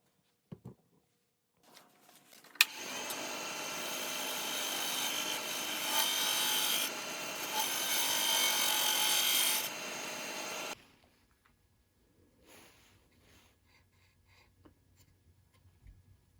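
A woodturning gouge making a pull cut on spinning maple, a loud continuous hiss and scrape lasting about eight seconds, followed by quiet and faint light scraping.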